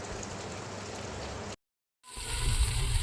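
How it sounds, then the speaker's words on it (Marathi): Warm water pours into a pan of dal and ridge gourd curry as a close, steady watery hiss. It breaks off into brief silence, then returns slightly louder and fuller. "डाळ शिजण्यासाठी यामध्ये आपण कोमट पाणी घालूया"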